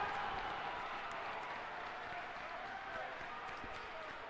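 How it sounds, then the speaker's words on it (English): Crowd and team bench cheer at a Salve Regina versus Eastern Nazarene men's college basketball game, a steady wash of indoor voices and clapping that stays loud throughout with no single voice standing out. "The Salve bench is hyped along with the crowd."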